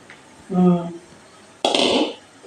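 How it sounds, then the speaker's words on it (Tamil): A few metallic clanks and scrapes of a pot being handled in a kitchen while preparing podi idli, with a brief ringing tone and then a louder clattering shuffle, close by. "பொடி இட்லிக்கு பாத்திரம் எடுத்துக்கொள்ள வேண்டும்."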